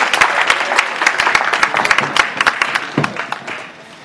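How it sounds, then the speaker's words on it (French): Guests at a wedding reception applaud the newly married bride, a dense burst of clapping from a crowd that stays steady and then thins out near the end. "Applaudissez Madame Blaise Ndala."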